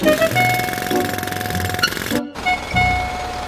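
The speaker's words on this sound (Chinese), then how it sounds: "又传来一阵装修的声音，这回是赛罗带着一群奥特曼在修路。" Cartoon road construction rattles with a jackhammer's rapid pounding and harsh mechanical whine, loud and continuous, cutting out briefly before resuming.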